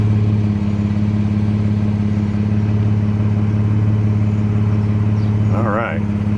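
A Chevrolet Colorado ZR2 Bison fitted with a Corsa Sport exhaust idles with a loud, steady, deep droning rumble, and a brief voice-like sound briefly rises over it near the end.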